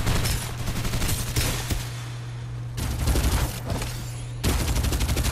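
Rapid bursts of VSS rifle fire in the battle game Farlight 84, loud and close, in three long strings with short pauses between, over a steady low hum, no talking.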